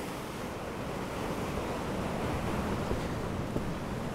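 A river running high and fast sends up a steady, loud roar of rushing water that holds constant from start to end with no voices.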